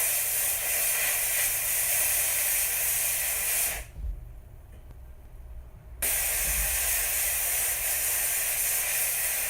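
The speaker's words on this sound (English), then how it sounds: "then steam them off with a high-pressured steam" High-pressure steam jet hissing loudly onto a gold and diamond wedding band while cleaning off polishing compound, a steady spray broken by about two seconds of quiet before resuming.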